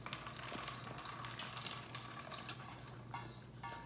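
Corn poured into a pot of crab and corn soup and stirred makes a faint, low bubbling and wet shuffling sound with a steady background hum, quiet and close.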